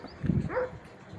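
A 16-month-old Pakistani Bully dog gives a single low bark that slides into a brief rising whimper, close and fairly quiet.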